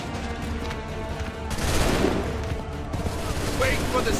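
Musket volleys fired by massed troops in Assassin's Creed 3, a loud crackling fusillade swelling around the middle and again near the end, with shouted commands mixed in.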